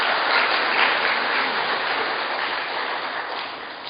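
A church congregation claps together during a Sunday worship service, a dense, steady wash of applause that holds strong throughout and eases off slightly toward the end, with no voices over it.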